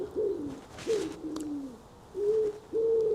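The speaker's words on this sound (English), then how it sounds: "I love a wood pigeon." A wood pigeon cooing outdoors nearby, a series of soft, low hooting coos in a rhythmic phrase against quiet background noise.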